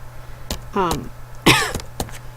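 A few sharp coughs and throat-clearing bursts close to the microphone, separated by short pauses, with a faint steady hum underneath.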